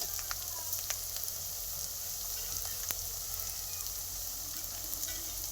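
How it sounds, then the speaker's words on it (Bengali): Salt, chili powder and turmeric powder fry as a spice paste in a pan for a country chicken curry, giving a steady, close sizzle with faint scraping from stirring and no voices. "এবার ভালো করে মশলাটা কষিয়ে নেব।"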